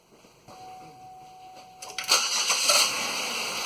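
2006 Pontiac Grand Prix engine starting, a faint whine, then a short cranking burst that catches and settles into a steady idle, close by.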